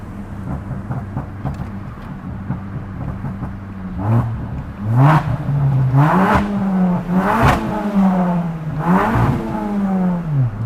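Car engine revving hard and unmistakably combustion-powered, its exhaust crackling and popping; several loud rising and falling revs build up close by after a steadier idle, with no talking.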